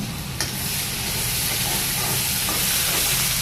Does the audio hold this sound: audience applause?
no